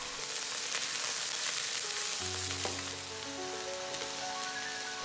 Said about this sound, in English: We'll start by heating 2 tablespoons of peanut oil. Drop in the garlic and ginger. Once they're fragrant, add the soybean paste.